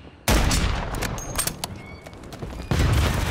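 Sniper gunfire from a Search and Destroy match in a first-person shooter, fired during a jump shot off a fence: a loud, sudden blast that rings out, then a second sharp report near the end.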